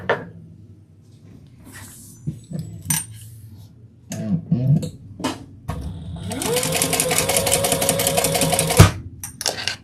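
A sewing machine stitches pieces of leather, a loud, close, steady mechanical whir lasting about three seconds near the end. Scattered clicks, knocks and handling noises of the material come before it, and a few more follow it.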